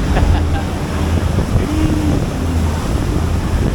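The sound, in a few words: strong wind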